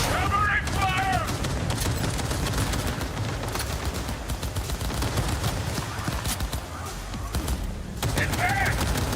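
Rapid gunfire crackles through a Cyberpunk 2077 firefight, dense bursts and booms under shouted combat voices.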